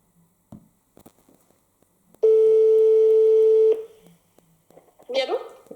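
A steady telephone line tone sounds after a call cuts off, a loud sustained beep lasting about a second and a half, with bits of speech and handling noise before it and voices after.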